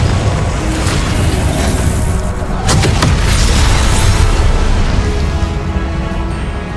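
Confringo spell explosion in the video game Hogwarts Legacy, a loud booming blast with a sharp crack in the middle, heard over a dense, continuous rumble.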